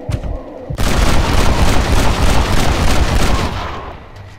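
Rifle fire at crows around a farm silo in Red Dead Redemption, a loud dense burst of repeated shots and booms rolling together for several seconds after a brief quieter lead-in.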